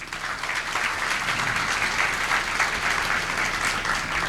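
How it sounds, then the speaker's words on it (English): Sustained audience applause at a chef master class in a hotel management institute hall, steady dense clapping from many hands throughout, fairly loud with no gaps. "let's clap for Ijaz"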